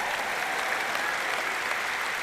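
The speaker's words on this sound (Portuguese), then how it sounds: "dê uma salva de palmas ao Senhor" Applause for the Lord in a church service, a large congregation clapping in a dense, steady roar of hands that holds at an even level throughout.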